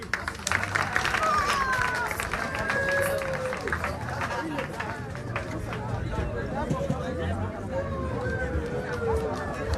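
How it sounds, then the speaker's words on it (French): An audience at a demonstration of putting out a leaking gas fire in a pot claps and cheers over a lively babble of voices, with whoops and chatter continuing throughout. "Le feu il est éteint, on applaudit pour eux."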